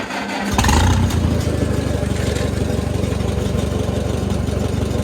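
An Oliver Super 66 tractor engine, running cold with the valve cover off, fires up and settles into a steady, loud chugging idle up close.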